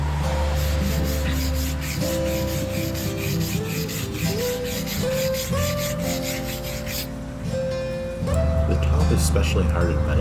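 Hardened metal hammers have their edges ground in a blacksmithing setup, giving a steady, continuous abrasive rasp that stays close and fairly loud throughout, over a sustained tonal background.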